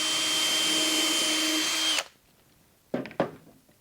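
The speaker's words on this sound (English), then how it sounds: "we drill our first hole." A 2mm drill bit boring a hole in a wooden nesting box: about two seconds of loud, steady high whine from the power drill, then silence and two short clicks or knocks.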